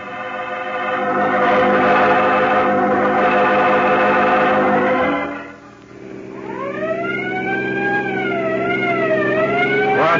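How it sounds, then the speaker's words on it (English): A loud, sustained siren wails through a scene in a 1949 radio crime drama, first a steady blaring tone, then a brief dip before a rising and falling wailing pitch continues to the end with no voices. "Outside the town, Peters, you can drop the siren."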